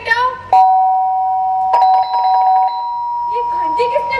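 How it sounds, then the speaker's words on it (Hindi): A doorbell rings indoors, with loud sustained chime tones sounding twice in succession and ringing on, while a voice speaks at the start and end. "ये घंटी किसने बजाई?"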